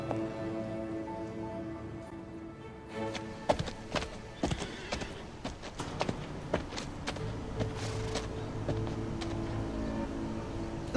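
A horse, a mare, walks with hooves clip-clopping in a steady, moderately close rhythm after a quiet start, the hoofbeats sharp and distinct over a faint background hum, with no talking.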